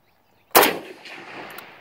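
A single sharp gunshot from a rifle loaded with old East German training ammunition cracks loudly and close, then a long ringing echo and outdoor reverberation trail off, with no talking.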